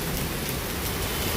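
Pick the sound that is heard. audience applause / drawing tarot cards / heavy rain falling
heavy rain falling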